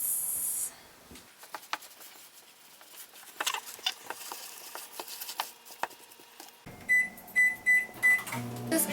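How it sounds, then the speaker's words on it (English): A microwave oven running on high, with a quiet hum and scattered ticks and pattering, followed by a louder stretch with a series of short beeps near the end; no voices. "Microwave on high for 4 minutes."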